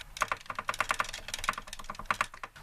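Rapid, light plastic clicks from a Wired Fight Pad Pro Switch controller thumbstick in quick irregular bursts, close up with no other sounds.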